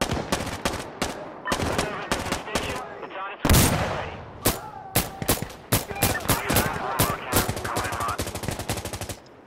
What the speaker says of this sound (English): Get Warlock to strafe this position